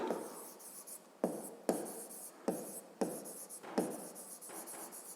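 A pen or pencil writes a short maths problem statement on paper, with repeated close scratching strokes broken by brief pauses between words.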